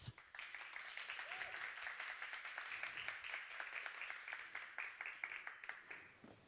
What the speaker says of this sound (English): Can we give her a warm applause?